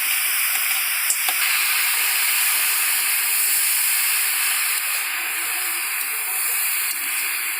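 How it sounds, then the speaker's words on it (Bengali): Chopped vegetables with green chilli and onion stirred in a hot pan for vegetable momo filling, giving a loud, steady frying sizzle and hiss throughout with a faint scrape or two, no voices. "আমি সব কটা সবজি দিয়ে এবার ভালো করে আমি এটাকে নাড়িয়ে নেবো"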